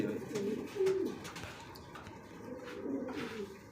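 German Beauty Homer pigeons at a bird sale coo in soft, low, repeated throaty calls close by, with a faint murmur of other birds behind.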